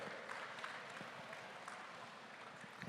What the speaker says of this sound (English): Big round of applause for that.